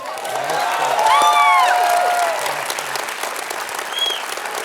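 A theater audience applauds after a film screening, a steady wash of clapping with a few whoops, fairly close and sustained, fading slightly toward the end as voices rise over it.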